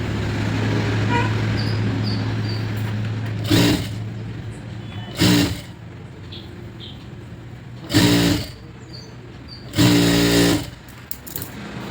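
A sewing machine stitches a blouse yoke piece in four short bursts of rapid, close mechanical whirring, with quieter hum and handling noise in the pauses between.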